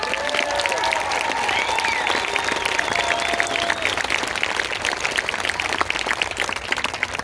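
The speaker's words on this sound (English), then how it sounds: "So round of applause to all of you" Audience applause fills a political rally for the PPC in Aylmer, Ontario, steady and dense clapping sustained loudly throughout, with crowd noise mixed in.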